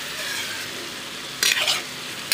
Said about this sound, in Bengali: তো এই যে দেখো আমি এখন বাঁধাকপিটা রান্না করছি